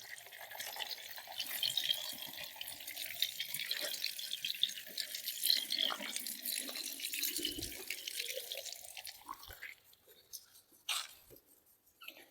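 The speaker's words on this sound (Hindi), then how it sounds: "दूसरी बोतल हमें अच्छी से धोकर इसको फुल भर लेंगे दोस्तों" A plastic bottle being rinsed and filled from a running tap, with a steady rushing stream whose pitch rises as the bottle fills, then trickles and rattles as the flow stops.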